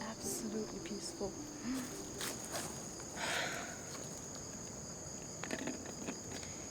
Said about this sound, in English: You can only really hear like the crickets and some birds